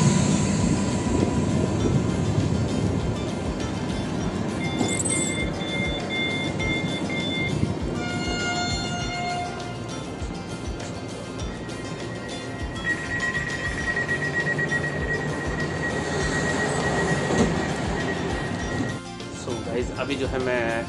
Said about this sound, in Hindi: अभी जो है मैं ट्रेन में बैठ गया हूँ